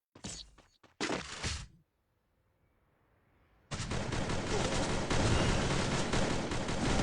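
Automatic weapon fire in the video game Free Fire: two short bursts of close, loud shots, a brief near-silent gap, then a sustained dense barrage of gunfire to the end.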